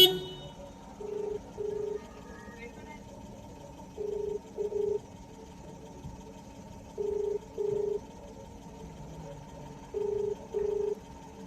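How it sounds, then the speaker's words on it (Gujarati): A phone call rings out unanswered, its ringback tone repeating as paired beeps roughly every three seconds over a low background hum, with no talking. "ફોન નહીં ઉપાડતો."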